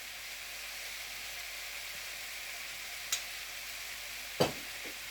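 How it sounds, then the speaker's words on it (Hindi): Soft steady sizzle of Chinese rice frying in a pan, with two brief scraping knocks of stirring near the end, no voices. "अब इसको अच्छी तरह से मिक्स कर लूँगा"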